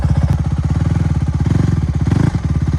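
A dirt bike engine runs loud and close, its fast steady pulsing firing rhythm holding throughout with a brief dip near the end.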